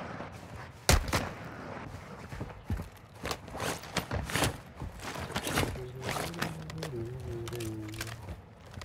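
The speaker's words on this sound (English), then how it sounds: "Shots on my right hand side." Gunfire in Call of Duty DMZ, with several sharp shots scattered across the clip, one loud near crack and others farther off, over a busy game background with a tonal in-game sound near the end.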